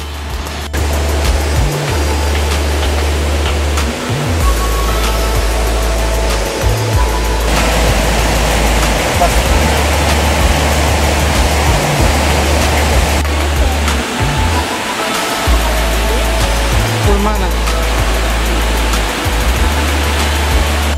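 A loud, steady roar of the Ponguito de Chumbaquihui waterfall near Lamas, Peru fills the whole stretch, constant and close, with a low rumble running underneath.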